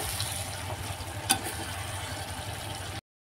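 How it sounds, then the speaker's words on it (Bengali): Chicken and potatoes frying in a pan for Bengali chicken kosha, a steady close sizzle with faint stirring scrapes and one sharp clink near the middle, no voices. "আলু দিয়ে আরও আমি 5 মিনিট ভালো করে কষিয়ে নেব।"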